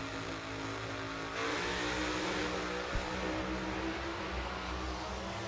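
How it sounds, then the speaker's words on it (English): A Dodge Top Alcohol Funny Car launches off the line during drag racing qualifying, its engine roaring loud and steady throughout, with the tires blown loose as it pulls away. "let the clutch out, and it blew the tires off"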